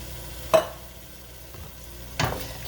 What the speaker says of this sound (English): Stir that up, give that a good mix